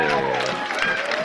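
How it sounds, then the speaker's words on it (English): A pool hall crowd at a professional 9-ball match cheers and claps after a shot, a dense close roar of voices and applause filling the whole brief moment. "I think we're about to hear the crowd go wild."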